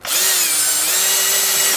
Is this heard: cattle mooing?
no